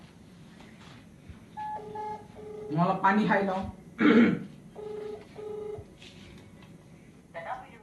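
Push-button telephone dialing tones sound in short steady beeps, several in sequence, alongside a person talking, a throat clearing and louder voiced bursts in a comedy skit.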